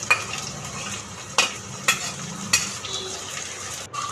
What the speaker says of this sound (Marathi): परतून झाल्यावर गाजर, बटाटा चांगलं परतून घेऊया.